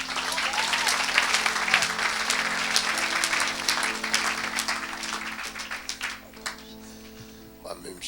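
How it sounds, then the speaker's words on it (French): A church congregation at a Saturday worship service applauds in acclaim of the Lord, sustained dense clapping with cheering voices mixed in, fading slightly near the end as music and speech continue beneath. "Quelqu'un acclame le Seigneur."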